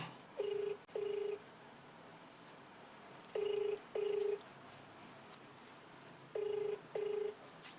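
A ringback tone on an international phone call: three evenly spaced double-beep pairs, each a steady, moderately loud tone with short gaps between. Faint background hum, no talking.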